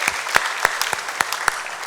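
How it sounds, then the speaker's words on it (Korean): A church congregation at a Sunday evening worship service gives a short round of applause, a few distinct claps standing out over a soft, steady patter of hands. "우리 박수로 격려하겠습니다"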